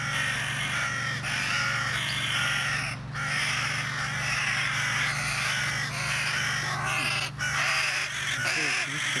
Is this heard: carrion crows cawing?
yes